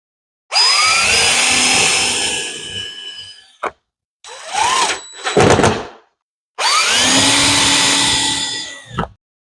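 A power drill drives screws into fireplace remodel panels in three loud, close bursts. Each one whines up to speed and then winds down, and a short stuttering pulse comes between the longer runs, with silent gaps in between.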